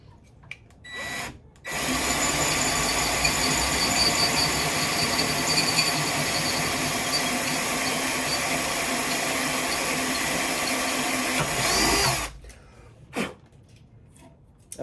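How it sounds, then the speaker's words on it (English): A drill bores through a metal bracket for a Ducati Supersport 950 luggage rack, lubricated with tapping fluid, a steady loud whine running about ten seconds after brief starts, then stopping. "drilled it with a smaller bit, stepped up to the bigger size, and then now to the final size"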